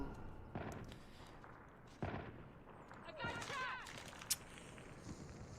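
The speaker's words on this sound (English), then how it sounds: "Shotguns in play." Shotgun blasts in a COD Mobile league match: several sharp, separate reports at mid distance over game ambience, with scattered footsteps and a short high ping near the end.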